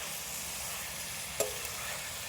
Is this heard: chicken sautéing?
yes